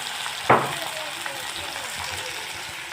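Tomatoes sizzle steadily in a frying pan while a home cook makes a potato and tomato dish, with a short clatter near the start and a continuous soft crackle throughout.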